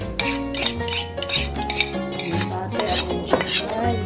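Banana cake batter being mixed with flour in a bowl, with utensil scraping and clinking against the dish, partly masked by steady background music.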